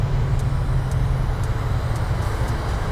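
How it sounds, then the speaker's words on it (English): Airliner thrust reversers roar during landing rollout in a flight simulator game, a steady loud broadband rumble heavy in the low end that holds throughout, with faint periodic high ticks. "Here comes the reversers."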